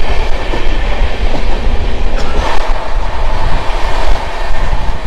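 A train runs toward Bolpur Santiniketan at moderate speed, loud and close with continuous wheel rumble and rhythmic clickety-clack over the rails.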